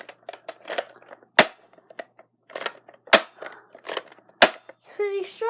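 A Nerf Blaze Fire toy blaster fires three sharp, loud pops at roughly even intervals, with softer handling clatter and scattered faint sounds between the shots.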